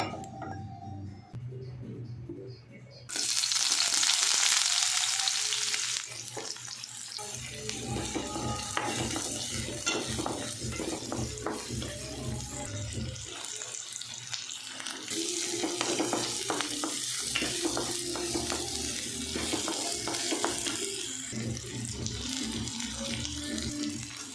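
Chowmein ingredients frying in a pan, a steady broadband sizzle and hiss that swells loudly for a few seconds, then continues under clinks and stirring noises.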